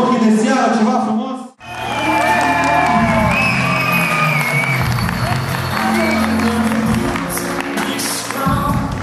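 Audience applause and cheering at a fashion show of evening gowns, a dense, loud wash of clapping and whoops that fills the room after a brief pause, with music and a voice carrying over it.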